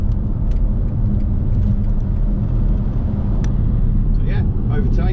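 An electric BMW iX3 accelerates to overtake on a road, giving a steady loud whir and rumble of tyres and motor throughout, with a voice talking over it.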